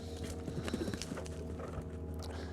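A horse moves through small jumps during jump training, its hooves clip-clopping in a quick, uneven rhythm of soft thuds. The hoofbeats are faint and distant over a steady low background hum.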